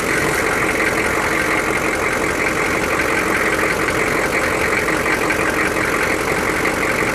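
A 6.5 turbo diesel engine idles steadily at close range, a loud, even, continuous rumble with a constant clattering texture and no break throughout.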